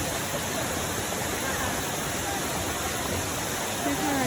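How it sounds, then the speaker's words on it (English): Dark Hollow Falls, a waterfall in Shenandoah National Park, roars as a steady, dense wash of falling water, loud and close, with no break across the whole stretch. "We're going to continue now on to the top of Dark Hollow Falls."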